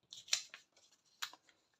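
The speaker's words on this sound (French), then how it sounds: "Donc, je vais couper mon papier en deux," Scissors snip through craft paper to cut it in half, a few crisp close cutting strokes in two quick bursts with quiet pauses between, no talking.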